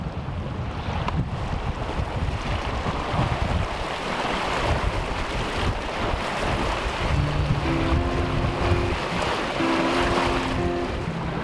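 A sailboat motors across calm, windless water toward English Bay, British Columbia, with its sails furled and autopilot on. There is a steady, continuous wash of bow wake over a low engine drone, with no voices.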